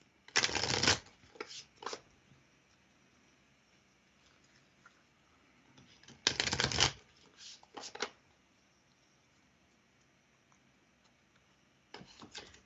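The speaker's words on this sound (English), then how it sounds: "Let me pull a card for you, Siobhan." Tarot cards are shuffled close by in three separate bursts, each a short crisp riffle with a few light taps and rustles between, the room otherwise quiet.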